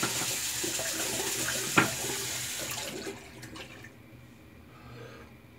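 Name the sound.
water running to rinse a shaving brush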